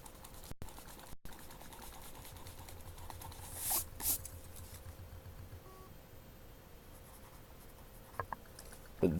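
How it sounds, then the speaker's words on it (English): An eraser rubs out written calculus work, giving a few faint, brief scrubbing strokes near the middle over a quiet, steady background with no talking. "So we're just going to erase this because that's wrong."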